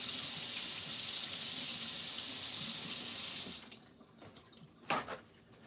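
Tap water runs steadily into a kitchen sink as an offset spatula used for chocolate is rinsed, then the flow cuts off, leaving a few clinks and splashes against the quiet.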